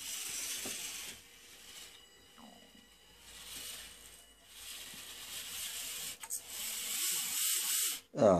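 A Losi micro RC crawler runs with a quiet, intermittent whirring and ratcheting of small gears in short bursts, heard close against a faint hiss.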